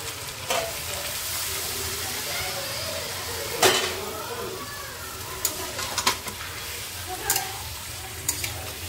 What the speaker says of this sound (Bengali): জাস্ট জল দিয়ে দিলাম